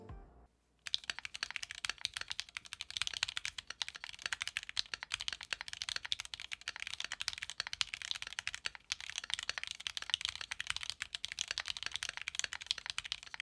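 Typing on a Keychron Q2 keyboard fitted with budget keycaps and switches produces continuous fast, quiet clacking keystrokes at close range, with no voices.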